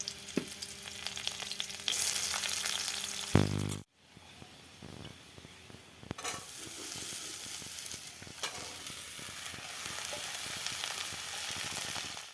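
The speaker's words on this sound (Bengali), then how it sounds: "তো দেখো বন্ধুরা এখন করলা রান্না করছি" Bitter gourd sizzles and sputters in a pan over heat with occasional stirring, a close, continuous frying hiss that cuts out briefly partway through and then resumes, with no talking.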